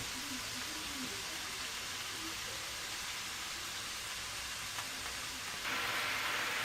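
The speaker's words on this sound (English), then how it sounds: "So we're cooking this mince off." Ground mince frying in a pan, cooking off for fajitas, gives a steady, soft, noisy sizzle throughout, fairly faint, with a brief louder hiss near the end. No one speaks.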